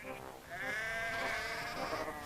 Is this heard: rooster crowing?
no